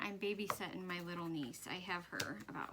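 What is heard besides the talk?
No everyday noises stand out.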